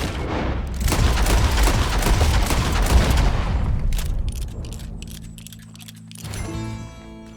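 Gunshots from the Western video game Red Dead Redemption 2 ring out in a dense, loud barrage of booming blasts, then fade into reverberating echoes before a few scattered sounds follow.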